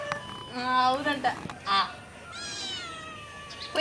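A cat gives a few short, nasal meows, alternating with bursts of nearby talk at home; the calls are moderately loud and close.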